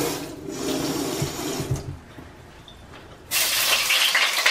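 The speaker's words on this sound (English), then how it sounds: "That's the water machine that I was telling you guys about" Water runs from a Kangen water machine into a kitchen sink, a steady close rush that dips quieter partway through and then surges louder again, with no talking.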